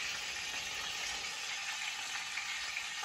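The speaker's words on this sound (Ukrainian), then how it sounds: "Шкварчить, димить, все пахне." Quail sizzles in a frying pan on a bed of onions, giving a dense, steady crackle of frying that runs without a break and with no voices.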